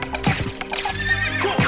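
Horse neighing in the video game Castlevania: Symphony of the Night, one loud, shaky whinny with a few clip-clop hoof hits near its start and end, heard alone with no talk.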